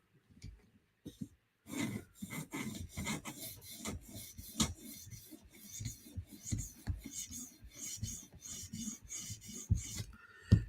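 A knife scrapes in repeated rasping strokes across a sharpener, each pass close and crisp after a brief quiet start, keeping up a steady back-and-forth rhythm with faint breathing in between.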